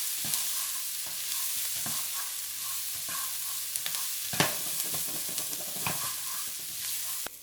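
Minced garlic and beef stir-fry in a hot pan for fried rice, with a steady close sizzle broken by repeated scraping and clacking strokes of the stirring utensil.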